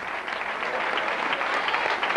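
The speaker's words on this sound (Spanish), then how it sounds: "Venga, vamos a aplaudir a estos dos chavales." Spectators at a local footrace in Sueca applaud two runners, a dense, even wash of crowd clapping that holds steady throughout without anyone speaking.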